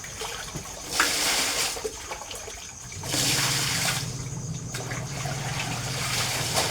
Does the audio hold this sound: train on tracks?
no